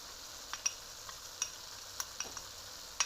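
Seasoned vegetables with carrots and potatoes sizzle quietly in a pan as a utensil stirs them, giving a scattering of faint scrapes and taps over a soft frying hiss.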